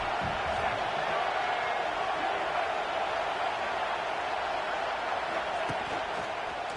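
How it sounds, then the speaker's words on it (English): A football stadium crowd rising up in a steady, loud, unbroken roar of cheering, heard at a distance as a dense wash of many voices. "This crowd rising up, sensing that its defense needs some help."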